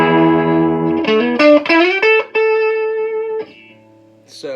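A Jerrycaster electric guitar on its neck humbucker pickups plays a run of loud, driven, sustained notes with distortion and effects, each note bending into the next before a held tone fades.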